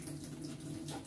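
A tap runs steadily while a child rinses a sponge at a sink, a brief close stream of water with no clear voices over it.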